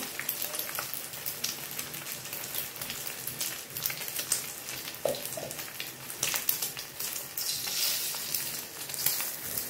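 A sunny-side-up egg frying in oil gives a continuous crackling sizzle with scattered pops and spits, close and steady for the whole stretch, with no voices.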